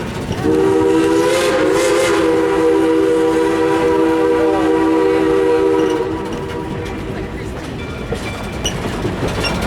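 Durbin Rocket steam train sounding a loud, sustained whistle for about five and a half seconds over the rumble and clatter of the moving train, which carries on steadily after the whistle stops.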